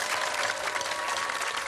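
A television bingo-show studio audience applauds warmly, a dense steady wash of clapping throughout the short stretch.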